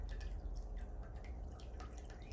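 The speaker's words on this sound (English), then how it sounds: "the distant cone is really starting to bubble up now" Seashells, including cone and miter shells, soaking in vinegar and fizzing, a faint continuous crackle of tiny popping bubbles over a low background hum.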